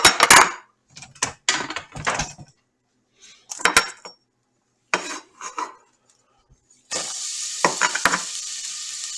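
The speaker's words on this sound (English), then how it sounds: "Got a little sizzle going." Bursts of clattering and scraping from a pan and utensil, then a steady sizzle of onion hitting hot oil starts up and continues loudly.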